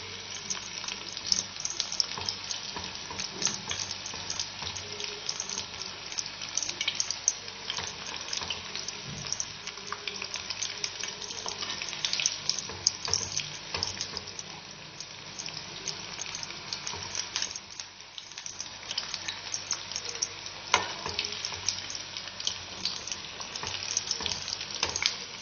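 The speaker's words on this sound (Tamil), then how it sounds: "வாழைக்காய் நல்லா வெந்துருச்சு, ஃப்ரை ஆயிடுச்சு." Raw banana slices frying in a pan, a steady close crackling sizzle that continues for a long stretch with occasional clinks and stirring noises and a brief dip partway through.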